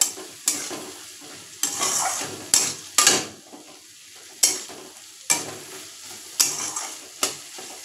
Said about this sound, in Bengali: টমেটোটা দিয়ে আমি আরেকটু ভালো করে ভেজে নেব, যাতে টমেটোটা নরম হয়ে যায়।